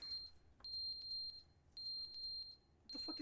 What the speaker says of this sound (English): The fucking smoke alarm! Skip it! That's annoying as shit! It needs battery changed.